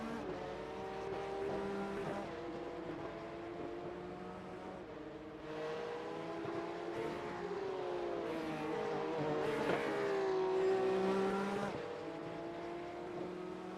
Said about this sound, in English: Engines revving as they get ready to roll out of pit lane